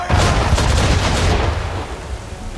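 Sailing ships fire a cannon broadside in Assassin's Creed III, a loud rolling barrage of rapid booming shots that blend into a roar and then fade into rumbling echo.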